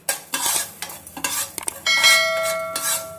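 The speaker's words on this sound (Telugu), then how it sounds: "మెంతులు, ఆవాలు వేయించుకుందాం" Fenugreek and mustard seeds are roasted in a pan for mango pickle, with a spoon making repeated rhythmic scraping strokes against the metal, rattling seeds and a brief ringing clink, close and clear.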